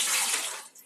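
Tap water pours steadily in a near, bright hiss while fish is washed for pinais, then fades off in under a second.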